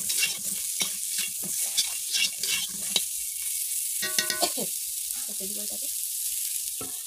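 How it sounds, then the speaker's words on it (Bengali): Pointed gourd being stirred and fried in a pan, with a continuous sizzle broken by scraping strokes of the spatula and clinks against the pan, close and moderately loud. "নেড়ে এটাকে ভাজতে হবে।"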